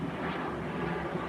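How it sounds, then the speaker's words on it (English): An airplane passes overhead above a garden, a faint, steady, broad rumble with no talking. "Oh, that's a plane."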